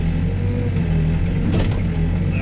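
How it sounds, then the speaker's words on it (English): A backhoe's bucket teeth shave and cut rock, with a loud, steady machine engine drone throughout and a brief scraping, grinding burst midway. "I can actually shave that rock just a little bit easier"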